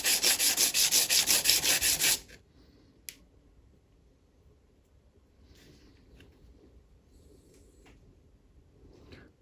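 A rusty old butcher's cleaver is sanded in fast, rhythmic rasping strokes for about two seconds. Near-silence follows, with one sharp tap and faint handling noises.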